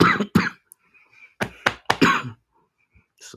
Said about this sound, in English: Just a little bit of a cough